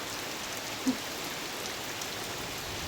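Steady rain with hail patters on a surface in a constant hiss, with one brief sharp tap standing out early on; no voices.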